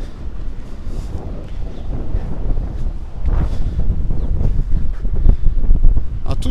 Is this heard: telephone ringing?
no